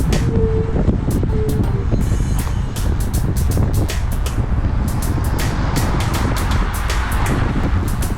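Heavy wind buffeting the microphone while cycling on a windy road, a loud constant roar with low rumble and passing traffic sounds.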